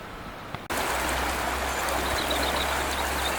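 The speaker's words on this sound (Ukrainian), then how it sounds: "А ось поруч протікає латериця річка" The Latorytsia river flows nearby at Chynadiievo beside the Sent-Miklosh castle, a steady broadband rush of moving water that starts abruptly after a brief quiet moment and then continues evenly and fairly close.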